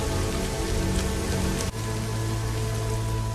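Heavy rain falls continuously in a film scene, a dense close hiss with a brief cut partway through, after which a low hum continues under the downpour.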